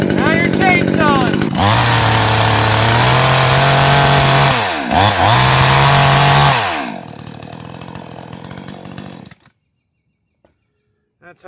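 A COOCHEER 62CC gas-powered chainsaw with a 20-inch bar starts up and runs loudly up close, holding a steady high idle with a brief dip before revving again, then sputtering down and cutting off into near silence.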